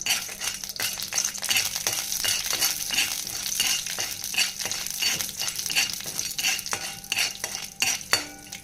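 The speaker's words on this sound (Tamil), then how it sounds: "இப்போ ஒரு ஸ்பூன் எண்ணெயை விட்டு இது வறுத்துக்கலாம்." Chana dal fries in a spoonful of oil in a pan while being stirred, with a soft steady sizzle under repeated scraping and clinking strokes of a metal spoon, close and continuous.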